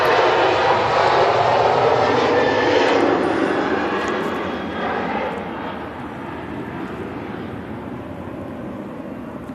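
An Airbus A330 airliner flies past at Manchester Airport: a loud, broad jet roar that holds strong for a few seconds, then gradually fades as it moves away.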